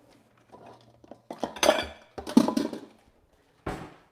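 A bowl and other kitchenware are pulled out in a home kitchen, giving a handful of close clinks and clattering knocks of dishes and utensils, with a final sharp clatter after a short pause.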